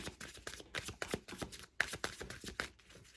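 Close, crisp riffling of playing cards being shuffled repeatedly, a rapid flurry of papery flicks and slaps.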